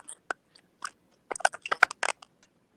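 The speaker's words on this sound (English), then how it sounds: "And somebody's like crunching." Someone crunches while eating, a few sharp bursts of biting and chewing, close and irregular, clustered in a quick run before trailing off, with no talking.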